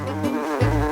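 Bees buzzing in a kitchen setting while honey is added to food, a close, loud droning hum that wavers and swells in pitch, with a couple of brief surges, and no talk over it.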